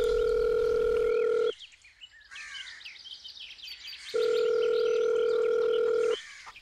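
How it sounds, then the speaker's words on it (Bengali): Mobile phone ringback tone plays loud and clear, two long steady buzzes separated by a gap, each lasting about one and a half to two seconds, with faint chirping noises between them. "সে তৎক্ষণাৎ বন্ধু ইন্দ্রনীলকে ফোন করল।"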